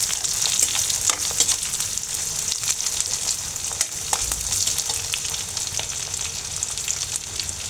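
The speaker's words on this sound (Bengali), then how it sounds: "আমি এখন ক্যাপসিকামটা দিয়ে দিচ্ছি। দিয়ে এটাকে আমি 2 থেকে 3 মিনিটের মধ্যে একটু ভেজে নেব।" Capsicum fries in ghee in a pan alongside ginger for a broccoli stir fry, giving a steady, dense close sizzle with scattered pops and crackles throughout, with no voices.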